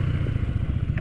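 Yamaha PG1 motorcycle engine, a close, loud, low throbbing idle with a rapid pulsing rhythm over a brief moment.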